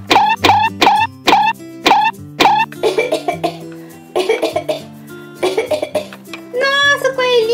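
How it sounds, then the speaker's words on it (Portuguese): A cartoon rabbit at a veterinary clinic gives a run of repeated, exaggerated cartoon coughs in quick bursts, followed by a short voiced stretch, loud and close. "Nossa, coelhinho, como você está tossindo."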